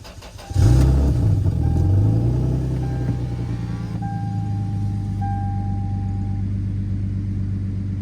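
A Lexus GS300 cranks briefly and catches after a jumpstart, the engine flaring up loudly then settling into a steady close idle with faint whines and chimes.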